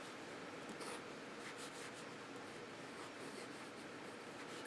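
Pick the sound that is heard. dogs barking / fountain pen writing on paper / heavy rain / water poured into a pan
fountain pen writing on paper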